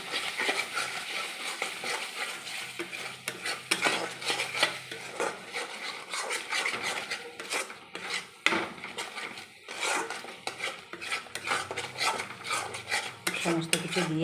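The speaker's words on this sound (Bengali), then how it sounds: "সমস্ত কিছু দিয়ে ভালো করে আমাকে কষিয়ে নিতে হবে যতক্ষণ না তেল ছাড়ে মশলা থেকে" Spices, thick yogurt and salt being stirred together for chicken balls, a steady close scraping and rubbing of a utensil against the pan, with soft clinks and rasping strokes throughout and no voices.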